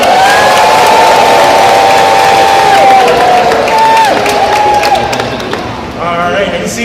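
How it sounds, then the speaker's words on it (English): A crowd cheers loudly on cue, a dense wash of shouts, whoops and high children's voices with some clapping, sustained at close range for several seconds before easing slightly at the end. "This time, we want you all to cheer really loudly."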